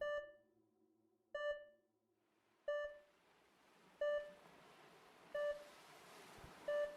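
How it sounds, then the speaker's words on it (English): Repeated electronic beeps sound inside VRChat, arriving about every 1.3 seconds as short, clear tonal bleeps over a soft hiss that grows brighter partway through. "I don't think there's a way to turn the beeping off."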